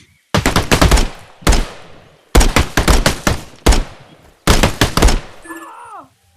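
Automatic gunfire in the shooter game Exfil Zone, several loud close bursts of rapid shots separated by short pauses, ending with a brief vocal sound.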